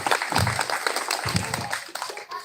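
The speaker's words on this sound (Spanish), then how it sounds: "le daremos un fuerte aplauso a este grupo" Audience applause for a music group at a children's and families' event, a burst of mixed clapping with low voice-like murmurs underneath, fading briefly near the end.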